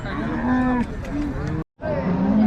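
A cow lows loudly and close at a village cattle market, giving drawn-out moos in succession with a brief cut of silence between. There is faint crowd noise behind.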